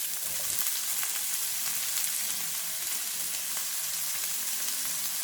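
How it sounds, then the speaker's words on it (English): Green onions and peppers sizzle steadily in a hot pan while being stirred, a constant crackling fry with no talking. "Stir it for a few seconds only."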